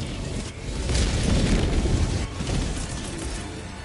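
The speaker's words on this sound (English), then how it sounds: "Calling in orbital strike" Orbital strike explosion from the video game Helldivers 2, a long rumbling blast with heavy low-end roar that swells for several seconds and stays loud throughout.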